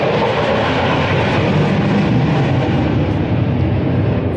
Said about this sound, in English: if you heard that was a fighter jet